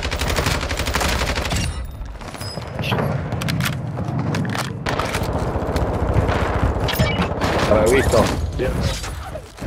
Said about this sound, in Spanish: Ahí está, dispararon en el piso, papi.